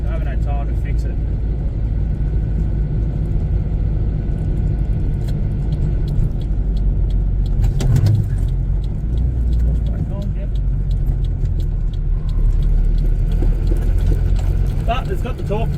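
A car engine rumbles steadily at close range while gears are shifted through a tricky linkage, with a continuous low drone and a brief surge around the middle, under someone talking.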